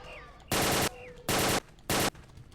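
Three loud bursts of AK rifle fire from the video game Trespasser, each a sustained roughly third-second volley, spaced evenly with brief pauses, over quiet background ambience.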